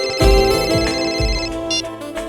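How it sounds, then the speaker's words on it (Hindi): A loud electronic phone ringtone melody in a Hindi TV crime drama plays up close, with rhythmic low thumps pulsing beneath the repeating tones. "तुम्हारा फोन रिंग हो।"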